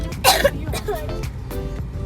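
A short burst of coughing up close, followed by someone speaking.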